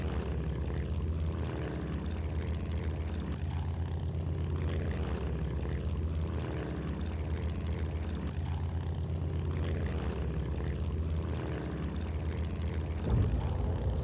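Propeller-driven aircraft engine drones steadily and loudly in the Strike Fighters 2 Vietnam flight simulator while descending toward a carrier to land, a continuous low roar with no break throughout.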